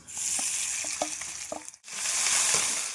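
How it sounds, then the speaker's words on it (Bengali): Spices frying in hot mustard oil with peanuts for a potato filling, a bright continuous sizzle with several stirring knocks, briefly dropping out near the middle before surging back loud. "আলুর পুরটা করার জন্য এই মশলাগুলো দিয়ে দিচ্ছি।"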